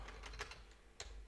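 Quiet keystrokes on a computer keyboard at a desk, a few scattered clicks in an irregular rhythm, close and soft with no voice.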